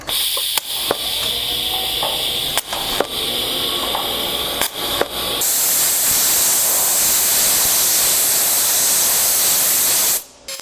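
TIG welding of silicon bronze on a small part: a steady, loud hiss of the arc with a few sharp clicks in the first half, then a smoother, brighter continuous hiss until it cuts off near the end.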